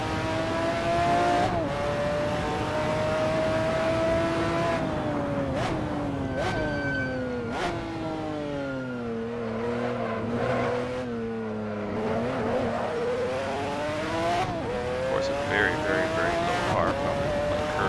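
McLaren F1 GTR race car engine on a hot lap in Assetto Corsa, a loud close engine note climbing through gears with sharp shift drops and revs rising and falling through corners.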